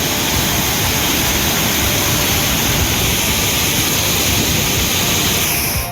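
The flooding Kovai Kutralam waterfall gives a loud, dense, unbroken roar of rushing water that holds steady throughout and cuts off at the very end.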